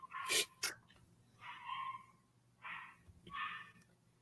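Several dogs let out short, sharp barks in quick bursts, some paired and some spaced apart, fairly faint against a quiet background.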